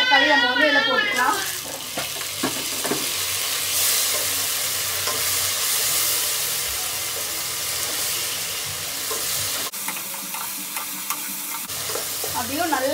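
Chopped tomato sautéing in a pan for vatha kulambu sizzles and is stirred with scraping clatters. Soft frying hiss runs throughout, with someone talking at the start and a few utensil knocks near the end.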